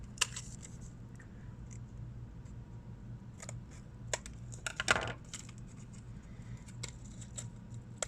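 Scissors cut open the plastic packaging of a SanDisk Extreme A2 128GB microSD card, giving a few faint, sharp snips and crinkles in an otherwise quiet room.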